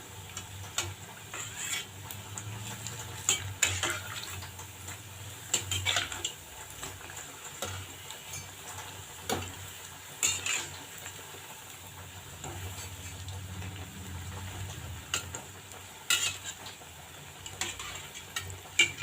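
Raw banana bajji frying in hot oil as a ladle turns them, a low steady sizzle broken by light scraping and tapping clicks at irregular intervals, with no voices.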